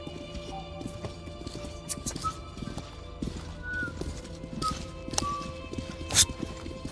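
Horses in the video game Metro trot and gallop with a steady, rhythmic clip-clop of hooves at moderate distance, joined by a brief whinny, over a low background hum of game ambience.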